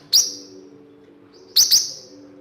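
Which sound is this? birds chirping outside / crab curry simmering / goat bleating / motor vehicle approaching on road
birds chirping outside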